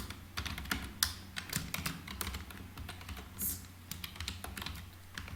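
Java code typed on a computer keyboard: quick, irregular clusters of crisp keystrokes, close and clear, with short pauses between bursts and no speech.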